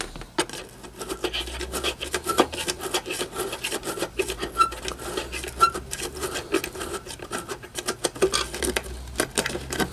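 Screws being worked loose from a Telefunken satellite speaker, a close, steady rasping and scraping with dense rapid clicks and ticks running throughout, no talking.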